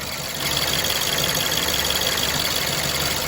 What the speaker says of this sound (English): I know the engine noise is there, so apologies.